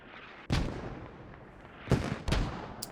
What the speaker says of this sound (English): Mortar's still dropping.